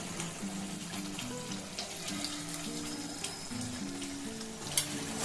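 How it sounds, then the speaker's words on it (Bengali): Pav bhaji bubbling and simmering in a pan over a gas flame, with a steady wet bubbling and faint sizzle running throughout, a few soft pops and one sharper click near the end, no voices. "এখন দেখুন খুব সুন্দরভাবে ফুটে গেছে। আমি একটু গ্যাসের ফ্লেমটা বাড়িয়ে দিলাম।"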